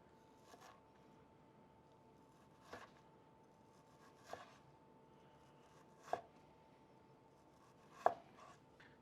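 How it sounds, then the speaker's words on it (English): A knife slices raw chicken into thin matchstick strips on a cutting board, giving five sharp, evenly spaced chops about two seconds apart against a quiet kitchen background. "I am cutting this chicken into like matchsticks so that they cook really fast in the oil"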